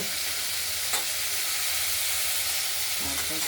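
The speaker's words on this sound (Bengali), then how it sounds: "আমরা আলু আর ঢ্যাঁড়সগুলোকে একটু ভাজা ভাজা করে নেব।" Potatoes and okra fry in a pan for a Bengali poppy-seed chachchari, giving a steady broadband sizzle with a couple of brief stirring scrapes and no voices.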